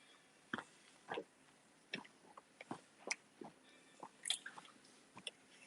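Yogurt and granola being chewed close up, with sharp crunchy bites spaced irregularly over several seconds against a quiet background, no talking.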